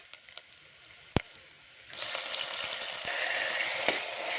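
Onions and tomatoes sauté in a pan for a horse gram and brinjal kuzhambu, starting with a few light taps and a sharp knock, then a steady close sizzle that swells and holds under occasional spatula scrapes.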